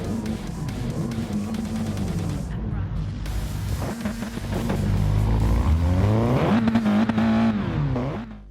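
Race cars at Willow Springs in Gran Turismo Sport, engines revving and shifting with rising and falling whines, one car swelling louder as it accelerates, with a voice talking over parts.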